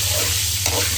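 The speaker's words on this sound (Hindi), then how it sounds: "कढ़ाई के अंदर ऑयल शामिल किया है हाफ कप, और इसी के साथ हमने कुछ खड़ा मसाला है डाल दिया है। इसको थोड़ा सा हम भूनेंगे।" Whole spices fry in half a cup of hot oil in a wok, giving a steady, close hiss with a low hum underneath and one brief stir scrape midway.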